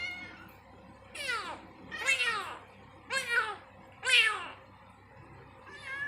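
At a cat adoption house, a forest cat gives five loud, drawn-out meows in a slow, uneven series, each call rising and falling, close by in a quiet room.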